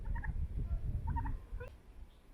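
A young turkey that hatched in an incubator gives soft, high peeping chirps in short clusters, close by over a low rumbling background.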